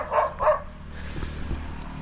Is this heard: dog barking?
yes